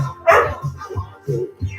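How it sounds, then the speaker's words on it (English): A dog in the background barks and yips in several short, uneven bursts during a cardio exercise class, fairly near and moderately loud. "so we can have no barking in the background"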